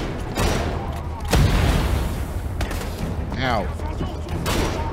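Gunfire in the video game Wolfenstein The Old Blood: scattered loud shots and booming impacts with a whining ricochet-like sweep over rumbling game noise, as a voice briefly cries out.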